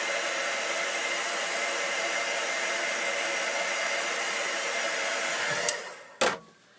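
A heat tool blows hot air over colored vellum cardstock in a steady, loud, close whooshing roar that cuts off near the end, followed by a quick click and a fading whir, with no talking.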